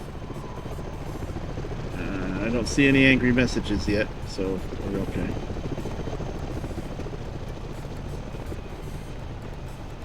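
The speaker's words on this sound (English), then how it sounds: "So there's a helicopter," Helicopter flying overhead in the truck-driving video game Hard Truck 2, a steady whirring drone under the engine noise that swells briefly and then continues at a moderate level while someone talks over it.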